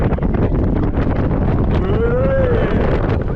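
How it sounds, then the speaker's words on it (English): Strong wind blasts across the microphone at the Energylandia amusement park in a heavy, continuous rumble, with a brief faint voice rising over it. "Oh, it's windy."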